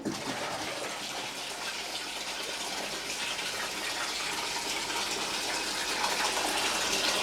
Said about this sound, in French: On voit bien la pompe qui est en train de vider la cuve